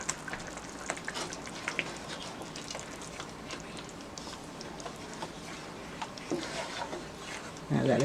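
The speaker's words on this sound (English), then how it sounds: "And let it continue to fry." Dense crackling and sizzling of sauce frying in a pot, steady throughout with scattered pops, a few sharper clicks near the end.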